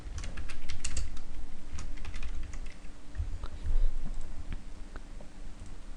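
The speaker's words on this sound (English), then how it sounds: "So here I can type in rose gold," Quick clicks of typing on a computer keyboard, with irregular bursts of keystrokes, close and fairly soft, alone with no one speaking.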